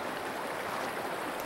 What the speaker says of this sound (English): is right here along the creek. This is a little tributary that feeds the Snake River.